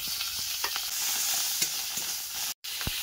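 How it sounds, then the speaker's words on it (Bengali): Onions and coriander leaves sauté in a pan with five-spice seeds, giving a steady close sizzle broken by scraping stir strokes and a brief dropout near the end. "এই যে পেঁয়াজের সাথে এবার কিন্তু ধনেপাতাটাও কষাই করব"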